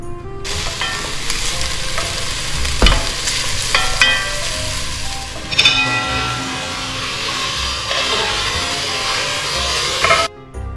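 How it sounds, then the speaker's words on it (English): Onions fry in olive oil in a pot, a loud, close, continuous sizzle punctuated by sharp clanks and scrapes of stirring, with no speech. "Then we throw them in a pot with some olive oil till they're nice and soft."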